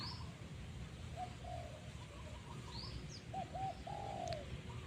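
Soft cooing calls of a large wild dove (nok khao yai), a territorial bird near a decoy, several short low coos heard fairly faint among other small bird chirps in an open outdoor setting.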